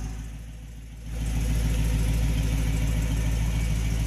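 Dodge Hellcat on stock mufflers idling with a steady low rumble that swells and grows louder about a second in, then holds an even, smooth drone.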